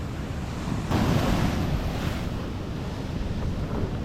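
Sea surf surges onto a shore lined with houses, a dense continuous roar of breaking waves mixed with gusting wind buffeting the microphone, loudest after the first second, no voices.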